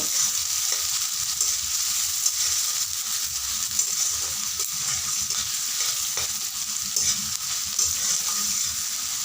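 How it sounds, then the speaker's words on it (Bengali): Chopped onions browning in a hot pan for egg curry, giving a loud, continuous close-up sizzle with faint stirring scrapes throughout and no talking. "পেঁয়াজ কুচিগুলো। পেঁয়াজগুলোকে আমি একটু লাল লাল করে ভেজে নিব।"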